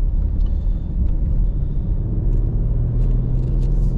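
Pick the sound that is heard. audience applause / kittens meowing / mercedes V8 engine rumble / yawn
mercedes V8 engine rumble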